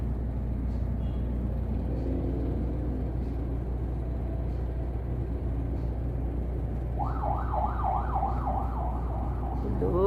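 A police siren passes along a road, its rising and falling wail entering around the seventh second and growing louder, over a steady hum of vehicle interior and traffic noise.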